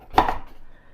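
A single close knife chop through butternut squash, sweet potato and red onion on a cutting board, one sharp thud that quickly fades.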